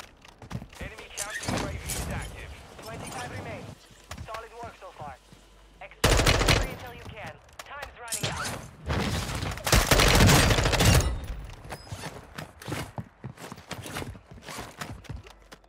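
Bursts of M4 assault rifle fire in the video game Warzone 2, rapid automatic volleys alternating with quieter stretches of footsteps and game effects, with a voice talking over parts of it.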